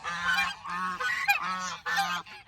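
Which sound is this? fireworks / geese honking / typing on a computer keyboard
geese honking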